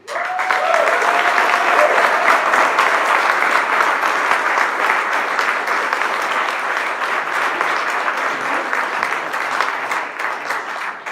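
An audience gives sustained, loud applause to welcome keynote speaker Kelsey Juliana at the Forest Fete 2019 event. Clapping fills the room for about eleven seconds and eases off slightly near the end.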